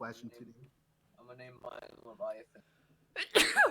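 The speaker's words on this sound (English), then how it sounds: "That was a very ladylike sneeze." A woman lets out a single short, sharp sneeze near the end, loud and close, following a stretch of casual conversation between people.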